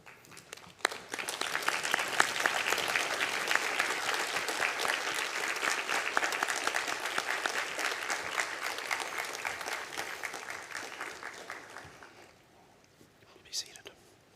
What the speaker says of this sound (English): join me in applause as a show of thanks to the teaching faculty for their contributions during your time at the school.